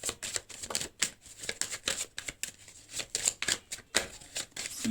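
Tarot cards riffled and flicked in quick bursts, a dense run of crisp papery snaps and slides close by, broken by short pauses as cards are shuffled and drawn.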